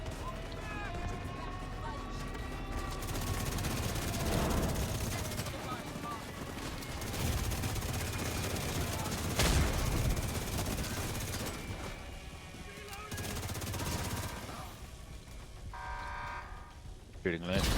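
Sustained gunfire from The Division 2 during a squad mission, dense bursts and shots running throughout at steady loudness, mixed with game effects and voices talking over it.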